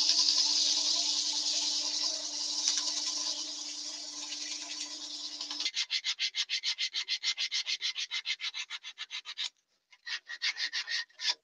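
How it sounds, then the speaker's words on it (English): Sandpaper rubbing against cherry wood spinning on a lathe, a steady continuous hiss at first, then a rhythmic rapid back-and-forth rasping with a short pause near the end, close and clear with no talk. "Now we can get a bit of sandpaper to it."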